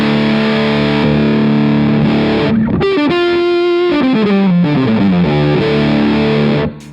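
Electric guitar through the muff fuzz circuit of a Crazy Tube Circuits Motherload pedal, thick saturated sustained chords, then a run of descending fuzzed single notes, ending on a held chord that cuts off.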